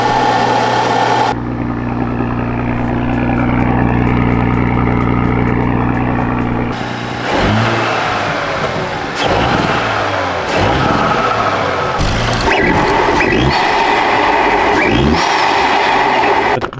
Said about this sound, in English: let's go ahead and get a sound clip.